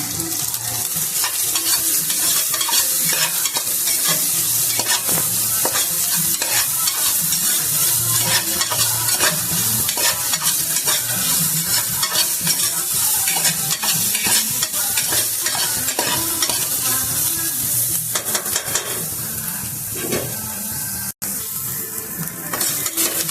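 Biranji rice ingredients with green chillies are stirred and fried in a pan, a steady loud sizzle with constant scraping and clinking of the spoon against the pan throughout, no voices.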